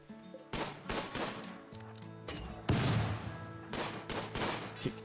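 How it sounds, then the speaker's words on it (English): Bursts of gunfire in the Imps versus Zombies video game, several rapid volleys of sharp cracks in quick succession over a low hum, fairly quiet overall with no talking. "Everybody just go stand right here and start shooting them"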